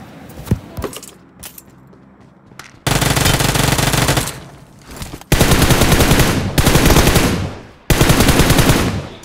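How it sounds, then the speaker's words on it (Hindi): Loud automatic gunfire in the mobile shooter BGMI comes in three long sustained bursts, after a few scattered single shots and clicks. "लूट करके जब मैं सामने गया तो अंदर से एक बंदे को फुस्ट आया मेरे को।"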